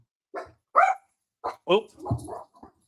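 A dog gives a few short, close barks and yips during a thunderstorm, the bursts spaced unevenly with brief silences between them, and no thunder clearly audible.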